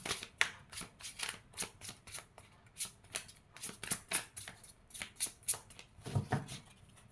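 Tarot cards are shuffled by hand close up in a quiet room, a run of crisp riffling bursts in an uneven rhythm, each flurry a quick papery flutter, with no voices.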